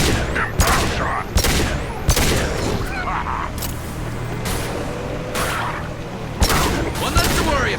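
Rifle fire in Mass Effect 2 cracks out as sharp, loud single shots spaced across several seconds, set against a busy battle backdrop of explosions and game effects.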